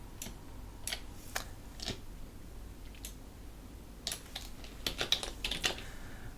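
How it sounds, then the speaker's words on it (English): Irregular bursts of crisp clicking come from keys struck on a computer keyboard, quiet and close, with short pauses between runs of keystrokes. "Now we start typing."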